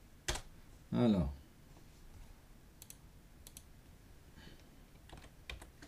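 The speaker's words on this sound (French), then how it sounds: "Alors je vais commencer par vous écrire le texte." Brief bursts of computer keyboard typing as exercise text is entered, a few light key clicks scattered across a quiet room after a short spoken word.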